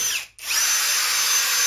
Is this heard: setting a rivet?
yes